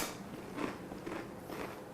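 Close, crisp crunching of loaded nachos with cheese, seasoned meat and beans, three bursts of bites and chewing spaced about half a second apart over a quiet room.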